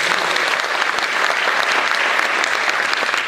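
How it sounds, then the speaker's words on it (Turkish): Dense applause from an audience at a Republican People's Party (CHP) provincial advisory meeting in Uşak, steady and loud throughout with no talk over it. "Evet, alkışladınız"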